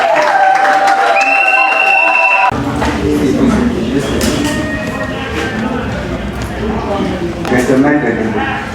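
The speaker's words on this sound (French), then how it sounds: "Applaudissez pour Charles et Charlie." Guests at a civil wedding break into applause and cheering that fills the room after a short stretch of voices, continuing as a dense, steady clatter of clapping.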